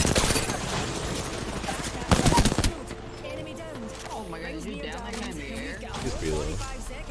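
Rapid automatic gunfire rattles in bursts during an Apex Legends match, loud and near at first, with a sharp heavy volley around the middle, then fainter shots and game effects continue while a voice talks over them.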